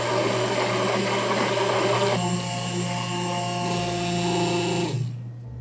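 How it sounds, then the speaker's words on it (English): A steady, loud motorized whirring from a handheld immersion blender smoothing orange flan mixture, shifting pitch partway through as it churns, then cutting off near the end. "now I'm gonna use the immersion blender"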